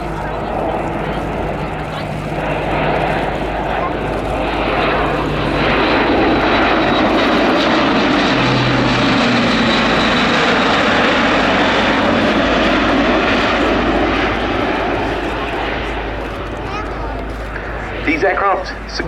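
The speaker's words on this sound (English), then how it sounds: "here it is, coming in over the tree line, the Atlas C1" An RAF Atlas C1 transport aircraft flies over at the Cosford Air Show, a loud, steady engine drone that swells and passes over about twenty seconds while a commentator talks over a public address.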